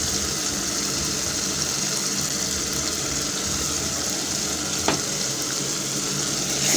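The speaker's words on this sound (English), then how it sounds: "I'm going to stir it" Curry with paprika and curry powder being stirred in a pan for egg curry, a steady soft sizzle with faint scraping and a single sharper clink partway through.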